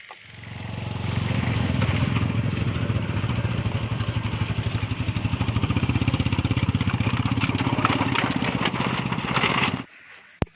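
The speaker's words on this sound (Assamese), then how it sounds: "এই বাঁহৰ দলঙেদি এটা বাইক পাৰ কৰাই লৈ যাব লাগিব।" A motorbike crosses a bamboo bridge on a hill route: a steady, loud engine drone with rattling clatter runs for about ten seconds, then cuts off abruptly.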